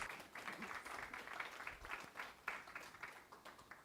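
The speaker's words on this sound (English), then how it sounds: "Let's give her a round of applause." Light, scattered clapping from a small audience, fairly faint and steady for a few seconds.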